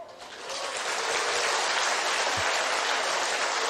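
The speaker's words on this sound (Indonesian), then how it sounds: "Karena saya telah menyebut Presiden Park, mari kita berikan tepuk tangan untuk beliau sekarang." A crowd breaks into steady, loud applause that swells quickly and keeps going evenly, with no voices over it.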